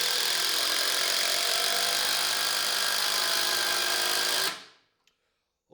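A cordless impact driver drives a screw, a loud, steady whirring hammer that runs unbroken for about four and a half seconds before winding down and stopping, followed by a faint click.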